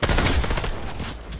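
Rapid gunfire from the video game Fortnite, a dense burst of loud, close shots rattling off continuously and alone for a moment, without voices.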